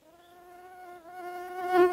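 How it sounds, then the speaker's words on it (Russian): Mosquitoes swarming close by at a leech lake campsite, a steady whining drone with stacked harmonics that swells louder toward the end, with no voices. "Но количество комаров, конечно, зашкаливает."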